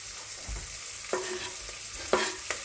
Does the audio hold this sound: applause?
no